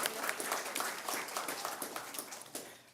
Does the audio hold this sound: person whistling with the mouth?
no